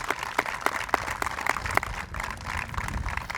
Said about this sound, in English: we want to publicly recognize Laura Regal. Let's have a round of applause